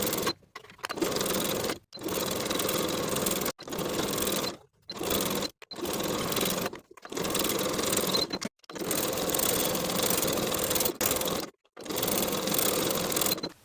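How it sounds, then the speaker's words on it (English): A sewing machine stitching a T-shirt sleeve seam runs in loud, close bursts of fast mechanical whirring, stopping briefly about a dozen times between runs. "Sew the sleeve in place with a 3/8 inch seam allowance"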